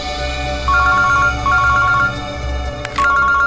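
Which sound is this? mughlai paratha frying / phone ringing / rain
phone ringing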